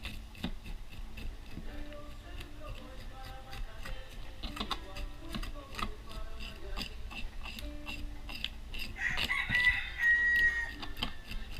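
Chickens cluck faintly in the background, then a rooster crows once near the end, with scattered ticking clicks throughout.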